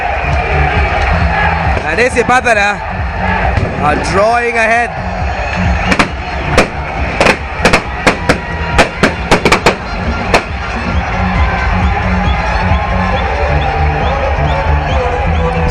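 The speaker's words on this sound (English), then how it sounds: "Look at the roar. Would you believe it? The crowd has come alive." Crowd at a schoolboy rugby final between Trinity and Isipathana roaring and cheering, loud and continuous, with sharp bangs like firecrackers popping in a rapid cluster midway while a commentator talks over it.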